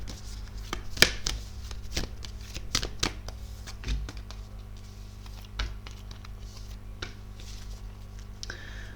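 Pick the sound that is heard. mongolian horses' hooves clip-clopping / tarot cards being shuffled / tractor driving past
tarot cards being shuffled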